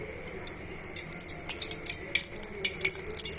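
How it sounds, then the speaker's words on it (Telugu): Cooking oil poured into a pot on a lit stove, preparing a cucumber curry, giving soft liquid trickling and dripping with scattered bright crackles and splashes that grow busier toward the end, close and fairly quiet. "ఇప్పుడు మనము తగినంత ఆయిల్ పోసుకుందాం"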